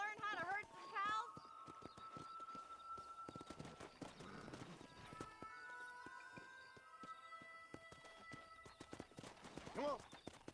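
Horse hooves clip-clop at a steady riding pace in the Red Dead Redemption western video game, a close, even rhythm. A horse whinnies at the start and end, and voices talk faintly underneath.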